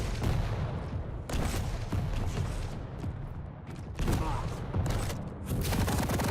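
Rockets fire and explode in a competitive Quake Champions duel match, with loud, dense volleys of blasts arriving in bursts that repeat throughout, separated by short, quieter gaps.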